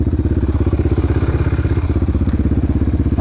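ATV engine pounding in a rapid, steady rhythm, close and loud, during a race between a Raptor 700R and a YFZ 450.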